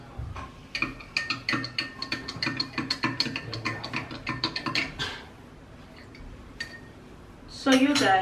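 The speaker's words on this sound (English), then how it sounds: "We're going to be transferring the juice into this cup. And then we're going to give it a stir" A spoon stirs juice in a glass cup, producing quick bursts of light clinks and scrapes against the glass in an uneven rhythm, then a pause before a voice speaks at the end.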